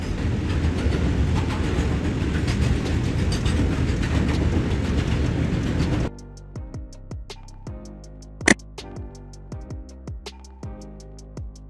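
An oil train used for transporting oil rolls past with a loud steady rumble of wagons, then cuts to rhythmic clickety-clack of wheels over rail joints with a sharp squeal or clank midway.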